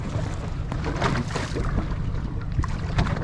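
A boat idles on the water of Bridport Bay, its engine giving a low, steady rumble close by under wind buffeting the microphone and light water sounds.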